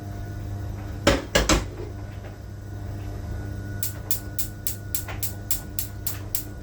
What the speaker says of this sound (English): I'm going to go ahead and get it on the stove